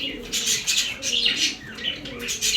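Pigeons kept for sale coo softly in repeated low rolling calls, with brighter chirps and rustling above them. The birds are close and fairly quiet, and there is no speech.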